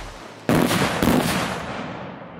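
A non-lethal flashbang grenade detonates with a loud, sharp blast, followed half a second later by a second burst, both trailing into a fading rumbling echo.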